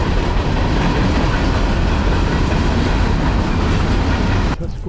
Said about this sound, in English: there was a train crossing the tracks just ahead of us.